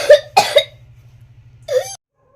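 A child coughs three times, harsh and close, two quick coughs and then one more after a pause, over a low steady electrical hum.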